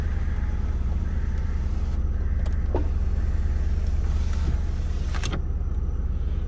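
Power-adjustable side mirrors on a Renault Fluence give short motor whirs a few times, close by, over the steady low hum of the car.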